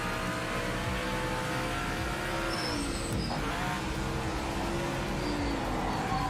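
A race car engine roars steadily in Project Motor Racing, loud and close, with rising revs, a gear change midway and faint tire squeal over the constant drone.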